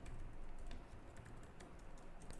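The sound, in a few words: typing code on a computer keyboard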